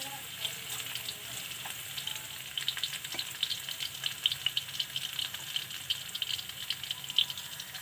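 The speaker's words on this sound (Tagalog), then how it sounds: "Hintayin lang natin mag golden brown yung ating bawang para" Garlic frying in hot oil in a pan until golden brown, giving a steady, fairly quiet sizzle with faint crackles and occasional light clicks of stirring, with no talking.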